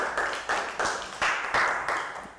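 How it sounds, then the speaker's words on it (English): A small classroom of young pupils claps for a classmate in a maths lesson, a light, uneven patter of hands in short bursts that rise and fade several times. "can we give her a round of applause?"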